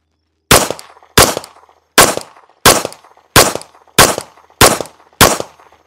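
Eight sharp, loud gunshots from a Tisas B9R DS Carry 9mm double-stack 1911 handgun firing 147 grain brass-cased rounds, fired close by at a steady, even pace about two-thirds of a second apart, each with a short ringing tail.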